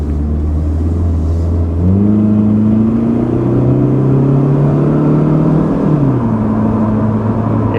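A 1989–1990 Pontiac Sunbird with a 2.0 liter overhead cam engine drives along, its engine droning loud and steady from inside the car, rising in pitch as it accelerates through a gear and then dropping back.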